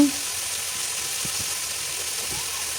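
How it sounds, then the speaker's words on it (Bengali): Spice paste (masala) fries in a pan for a fish-head and winter-vegetable curry, giving a steady, close sizzle with a few soft low knocks from the pan. "মশলাটা প্রায় কষানো হয়ে গেছে অনেক ধোয়া উঠেছে"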